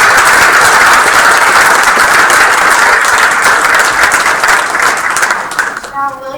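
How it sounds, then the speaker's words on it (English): A school board meeting audience gives a loud, sustained round of applause that thins out toward the end, with a few voices surfacing as the clapping fades. "we got another round of applause for both"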